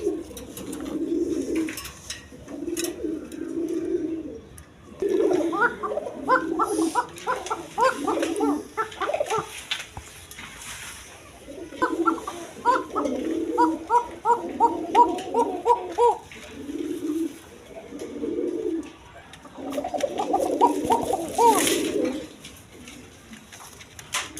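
Domestic pigeons at a Bangladeshi pigeon farm coo in repeated rhythmic bursts, close and fairly loud, with several birds overlapping in clustered runs of throaty calls.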